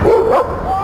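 A dog gives a single short, loud bark up close, with a brief yelping tail.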